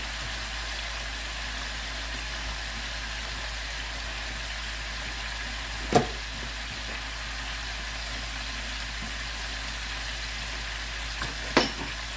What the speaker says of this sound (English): I have about 8 pieces that I'm frying up and doing 4 to the pot, 4 at a time.